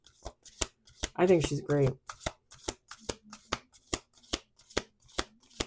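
Tarot cards are riffled in one quick burst, a soft fluttering rush, while a voice talks over sharp, regular taps nearby.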